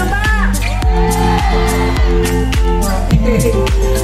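A rally crowd cheers and shouts loudly, with whoops and yells over a steady beat of rhythmic pulses throughout.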